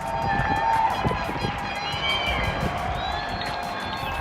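Outdoor crowds applaud hospital staff, a dense wash of clapping and cheering with scattered whistles and shouts, sustained and lively from start to finish.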